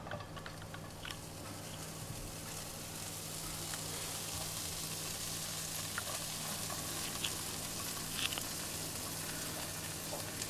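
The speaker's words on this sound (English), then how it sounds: "So the frying pan is on low heat, and what I'm going to do is to sprinkle it in" Steady, gentle sizzling of cheese in a frying pan on low heat, a constant crackly hiss with occasional small pops, alone and close.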